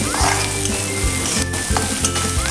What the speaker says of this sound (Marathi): आपला कांदा छान असा भाजून होत आलेला आहे आपण त्यामध्ये हिरवी मिरची टाकून घ्यायची आहे